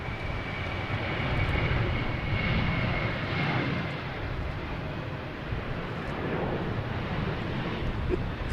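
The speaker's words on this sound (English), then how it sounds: "Next taking off, we have Sun Country heading to Minneapolis. 737, flight 252." A Sun Country Boeing 737 taking off at Boston Logan, heard as a steady broadband jet engine roar over the full stretch, swelling slightly midway and holding at a moderate distance with no talk.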